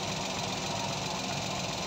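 A multicab engine idles steadily with an even, continuous mechanical rumble and no talking, running smooth rather than shaking.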